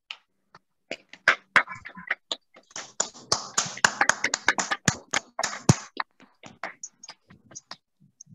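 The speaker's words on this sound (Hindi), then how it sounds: "आइए हम सब मिलकर तालियों की गड़गड़ाहट से प्रसून कुंडू सर का स्वागत करते हैं।" Scattered claps and taps from an audience welcoming a guest speaker at an event, starting sparse, swelling into a denser burst mid-clip, then thinning out to a few isolated claps.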